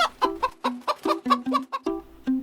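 Hen clucking in a series of short, rhythmic bursts, close and clear, with no other sounds, opening a farmyard story about a little red hen.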